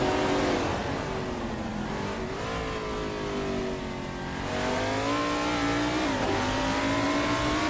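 Cars in a racing video game launch off the start line with loud, sustained engine revving that climbs and shifts pitch across the whole stretch, layered roars of several engines close up with no talk.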